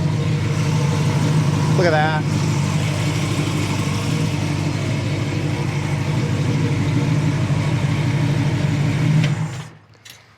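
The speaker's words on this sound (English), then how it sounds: "the sound of the exhaust is thrilling, isn't it?" A 1968 Chevrolet Camaro SS 396 big block, rotisserie restored, rumbles with a deep steady exhaust idle for about nine seconds before cutting off abruptly, with a brief voice heard over the engine.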